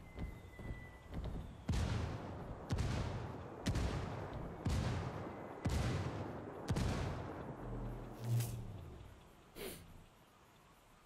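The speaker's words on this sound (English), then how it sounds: "Mortar being dropped." Mortar rounds land in Ghost Recon Wildlands, a string of heavy booming impacts roughly once a second, loud and close with rumbling tails, followed by a lower thud and fading.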